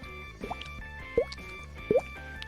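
A voice makes mouth-made drip sounds imitating a leaky faucet: three hollow plops at an uneven pace, faint and close, over quiet background hum.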